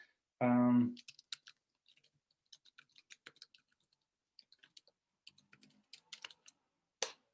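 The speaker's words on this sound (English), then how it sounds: "let me type it in the chat." Soft, sparse clicks of typing on a computer keyboard during a live online interview, in irregular bursts, after a brief tonal beep at the start and ending on a louder click.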